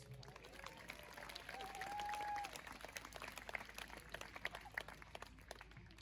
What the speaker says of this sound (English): can we please give the festival organisers and the organisers of tonight a big round of applause